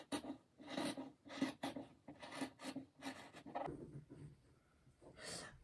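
Scissors rasp through fabric while a long-sleeve turtleneck pattern is cut with small seam allowances. The snips come as a run of short, rough strokes at an uneven rhythm, close and quiet.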